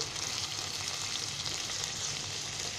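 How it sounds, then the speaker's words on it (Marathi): Onion and mixed vegetables frying in a pan, a steady even sizzle that holds at a constant level throughout, close and alone with no talk. "चांगला कांदा भाजलाय"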